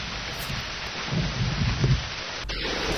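Steady rain with a low rumble of thunder swelling in the middle, continuous and fairly loud, with no voices, used as an audiobook sound effect.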